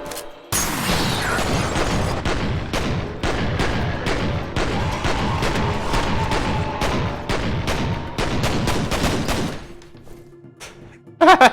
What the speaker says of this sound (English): I purposely shoot random shit in the environment to make the firefights look cool